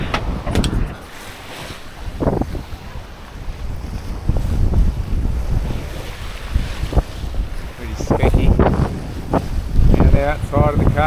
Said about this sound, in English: Can you hear me through the wind?